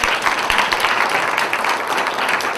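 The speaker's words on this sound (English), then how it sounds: "Clap it up for yourselves." A comedy night audience at a foundation benefit applauds, a dense burst of clapping filling the room briefly.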